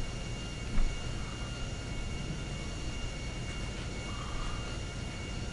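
Airplane engine in a sandbox flight sim game, a steady broad drone with a faint higher whine, heard alone as the plane comes in to land on a private landing strip.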